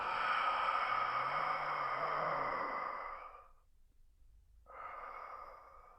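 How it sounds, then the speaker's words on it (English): A slow, deep breath is drawn in and let out during abdominal breathing in a bridge position, a long airy breath close to the ear, then a pause and the start of another breath. "we'll take the deep breath in, and then we'll exhale"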